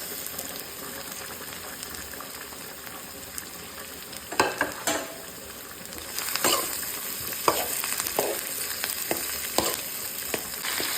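Onion, chicken and squid balls sautéing in a pan for pancit canton, a steady loud sizzle with stirring clatters and scrapes growing busier partway through, close up with no talking.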